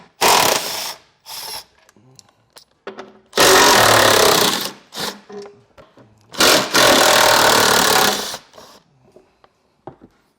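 A power tool removes 13mm screws from the belly pan of a 2020 Chevrolet Silverado. It gives several loud, close bursts of whirring ratchet, separated by pauses with faint clinks.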